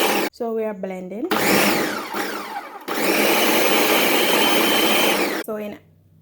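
A countertop blender whirs loudly and steadily, blending peanut porridge made from peanuts, green banana, oats and water. The motor runs in two long bursts with a short break between them, and brief talk comes before and after.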